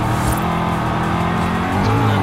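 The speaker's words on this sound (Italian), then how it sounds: "finalmente hanno messo la Viper col motore della Viper" A Dodge Viper engine revs in the racing game Forza Horizon 5 with a dense, loud, steady roar, and it holds and builds slightly toward the end with no talk over it.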